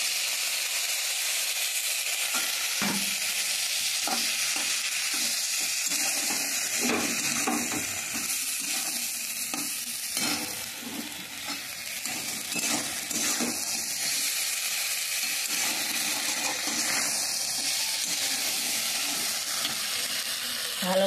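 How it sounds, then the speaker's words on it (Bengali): Masala is stirred and fried in a pan with a splash of water. A loud, continuous sizzle and hiss fills the clip, broken by repeated scraping strokes of the spoon. "ভালো করে নেড়ে কষিয়ে নিলে টেস্ট হয়।"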